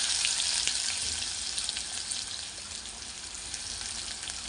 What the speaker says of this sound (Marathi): आता आपण कांदा परतून घेणार आहोत